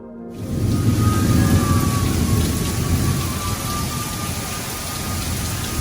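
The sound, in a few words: heavy rainstorm on the 4th of July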